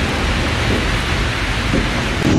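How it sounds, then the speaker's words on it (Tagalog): Heavy rain pours down in a steady, dense roar, loud and close, with no voices, at Lubao Bamboo Hub and Eco Park in the Philippines. "Kaya lang, umuulan na."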